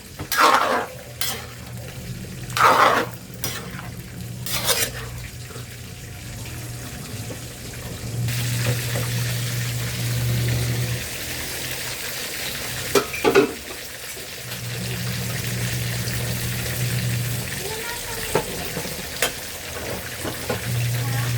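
Shrimp cooking in coconut milk in a pan, with a continuous bubbling sizzle, stirring scrapes and knocks at the start, and a low hum underneath.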